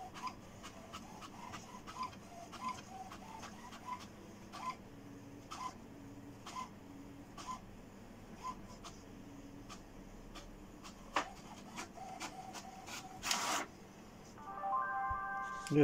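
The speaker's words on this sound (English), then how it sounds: "It's printing now." An HP Deskjet Ink Advantage 3835 all-in-one printer prints a page, giving steady repeated clicks and whirring carriage passes, with a louder mechanical burst near the end. Close and clear.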